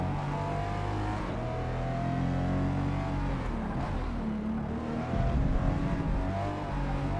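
Race car engine in Forza Motorsport roaring steadily at high revs through a curve, pitch sliding as the gears shift, loud and continuous for the whole stretch.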